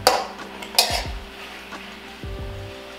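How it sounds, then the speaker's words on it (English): Mushrooms sauté in a pan for a Christmas mushroom soup, with a utensil scraping and clinking against the pan over a soft steady sizzle, the louder scrapes near the start. "we got about another 2 minutes of sauteing to go"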